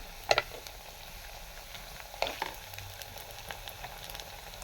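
Ginger and garlic frying in a pan for a Tamil gravy give a soft, steady sizzle, with a few sharp clinks of a utensil near the start and in the middle.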